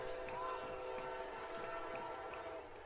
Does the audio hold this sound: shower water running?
no